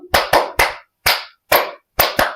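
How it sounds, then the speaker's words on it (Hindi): Bare hands clap sharply seven times in a loose, uneven rhythm during a yoga acupressure exercise, loud and close with silence between claps. "अब तालियों के साथ एक्यूप्रेशर पॉइंट दबाएंगे"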